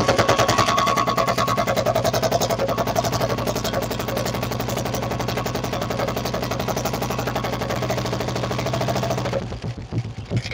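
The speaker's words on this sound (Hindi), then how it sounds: "तो दोस्तों आप आवाज सुन पा रहे होंगे बुलेट की कितनी जबरदस्त हो गई है।" A Royal Enfield Bullet with a modified exhaust silencer thumps along in a fast, loud dug-dug rhythm close by, dropping away briefly near the end.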